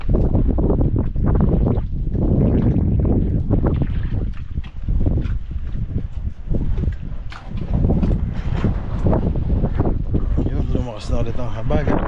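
Strong southwest monsoon wind at sea beside a large mother boat, roaring continuously and loudly into the microphone with gusty buffeting and no pauses.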